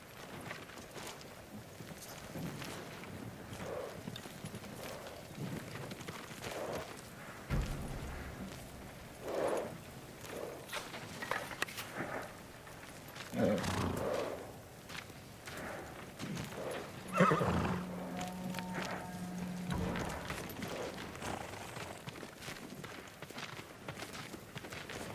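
Horse hooves clip-clop at a walk in the video game Ghost of Tsushima, with several neighs and whinnies breaking through over a steady ambient background.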